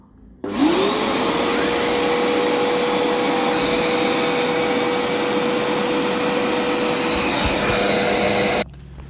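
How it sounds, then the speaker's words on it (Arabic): A Hoover smart vacuum cleaner switches on and runs steadily on carpet, its brushes spinning at high speed in a loud, constant whine and whoosh that stops abruptly near the end. "اول ما هبدا اشتغل هتلاقي الفرش دي تبدا تلف بسرعه عاليه عشان ندعك السجاد."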